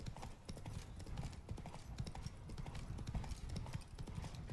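Rapid hoofbeats of a galloping horse in the video game Witcher 3: Wild Hunt, a rhythmic clip-clop pounding steadily throughout, fairly close and unbroken.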